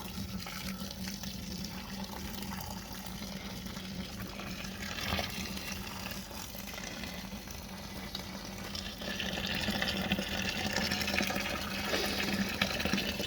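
Boiled water from a 1.5-litre kettle poured onto frozen blackberries and raspberries for wine, a steady splashing gush that fills the whole stretch and grows a little louder and fuller toward the end, with no voices.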